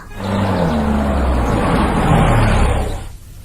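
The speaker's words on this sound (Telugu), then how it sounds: "కారు వచ్చేసింది" A car pulls up and arrives, its engine a loud, close rumble with a rising and falling tone that holds for about three seconds before cutting off abruptly.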